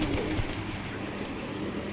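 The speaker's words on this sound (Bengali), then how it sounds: "এইগুলো হলো ডিপজল ভাইয়ের জাতের কবুতর।" Giribaz pigeons, a Palla-line breed, coo steadily at close range in a loft, a continuous low burbling murmur with no talk over it.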